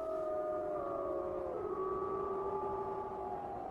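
A wolf pack howls together in a wintry wilderness, several long overlapping howls rising and sliding in pitch, sustained and fairly distant, with no talking.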